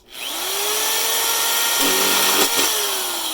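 A power drill whines steadily at high speed while drilling a hole in plastic, its pitch dipping briefly as the bit bites in, then recovering; close and loud throughout.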